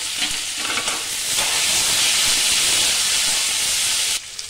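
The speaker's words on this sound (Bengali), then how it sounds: "এগুলো সব একবারে একসঙ্গে দিয়ে দেবো সব। হালকা এটা ফ্রাই করে নেব।" Chopped ginger, garlic, capsicum and onion fry lightly together in hot oil, making a loud, close, steady hissing sizzle that swells and then cuts off abruptly near the end, with no voices.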